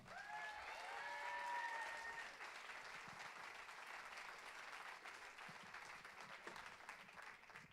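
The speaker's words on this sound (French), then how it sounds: "vous pouvez l'applaudir" A live show audience applauds Thibaut Mallard's arrival, steady dense clapping that stays even throughout at a very low level.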